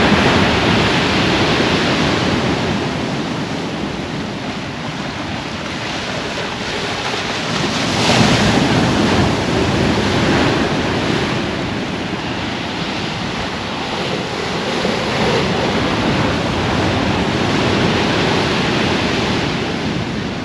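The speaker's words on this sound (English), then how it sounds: "You can actually feel these cliffs shaking guys when the waves hit them." Big surf pounds against the cliffs of the Holderness Coast at Aldborough, a loud, continuous roar of breaking waves with surges and heavy wind buffeting the microphone, and no voices.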